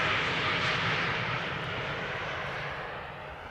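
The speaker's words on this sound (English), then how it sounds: "KLM Flight 1822, 737-900, returning from Berlin." A KLM Boeing 737-900 jet arriving at Amsterdam Schiphol roars close by with a steady broadband engine rumble that slowly fades as it passes.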